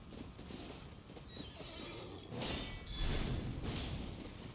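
A horse in the Elden Ring video game whinnies and clip-clops amid combat swooshes and impacts, with the loudest swells near the end, mixed into steady game background noise.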